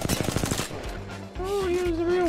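Gunfire in the Apex Legends video game, a rapid burst of loud automatic shots in a quick, even rhythm, followed by lower game sounds and a rising tonal effect.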